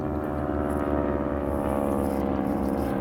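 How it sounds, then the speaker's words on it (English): An aircraft droning overhead during an air show, a steady low rumble with a broad hum, continuous and fairly loud, with no voices. "It's a plane going overhead."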